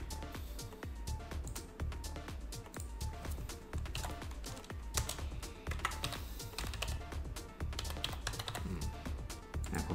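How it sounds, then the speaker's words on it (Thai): Steady computer keyboard typing with dense, rapid key clicks throughout, close and fairly loud, while text is entered in Adobe Illustrator's type tool. "คลิกหนึ่งทีนะครับแล้วก็พิมพ์ไป"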